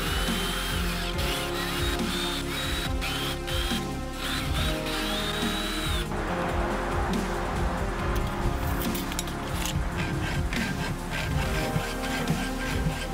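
A power drill bores holes freehand for a homemade Mavic Pro iPad mount, its loud, close whirring grind running steadily throughout with shifting pitch and no voices.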